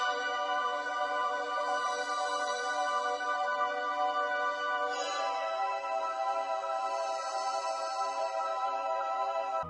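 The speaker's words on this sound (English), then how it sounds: "I added another pad under the piano." A dry synth pad plays sustained piano chords with no effects, steady warm layered tones, with a chord change about halfway through and no voices.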